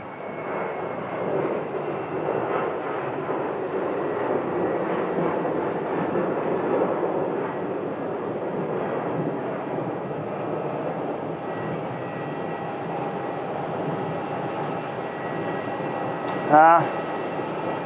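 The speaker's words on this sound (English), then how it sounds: "Southwest is going around." A Southwest airliner going around at Phoenix airport, a steady distant engine roar rumbling under faint talk for most of the stretch, with a brief sharp noise near the end.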